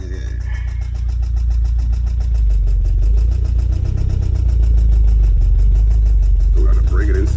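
A 1991 Toyota MR2 turbo engine idles close by with a steady, loud low rumble and a rapid repetitive ticking noise running through it. The sound stays constant throughout with no clear speech.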